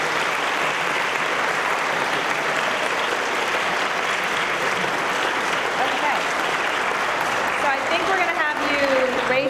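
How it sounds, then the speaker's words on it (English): A round of applause for a distinguished speaker series guest, dense and continuous clapping from a large audience, loud and sustained throughout, with a few voices rising faintly near the end. "let's give him a great round of applause"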